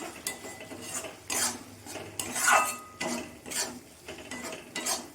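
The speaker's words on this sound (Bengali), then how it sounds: "মশলাটা আমি ভালো করে কষিয়ে নেব" A spatula scrapes and rasps rhythmically against a pan as a spice mix with cumin powder is stir-fried, the strokes coming in close, repeated bursts.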